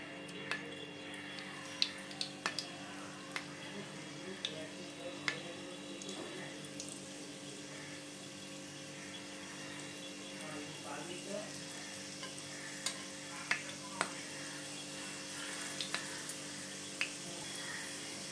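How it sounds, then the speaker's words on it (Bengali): Prawn fritters frying in hot oil make a soft, steady sizzle, with scattered small pops and crackles. A faint hum runs underneath, and no voice is heard. "তো দেখো আমি এবার এই তেলের মধ্যে এবার বড়াগুলোকে দিয়ে দেবো।"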